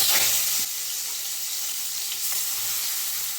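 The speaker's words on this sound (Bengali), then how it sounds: "চিংড়ি মাছগুলো ভালো করে ভেজে নেব।" Prawns frying in hot oil in a kadai for a Bengali prawn curry, giving a steady, loud, close sizzle and hiss that runs throughout with no voices.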